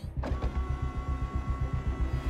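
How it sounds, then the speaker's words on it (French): A cartoon quadruple cannon mechanism whirs and clanks in a steady, repeating rhythm, like a motorized mechanism cycling into action. "Activation du quadruple canon."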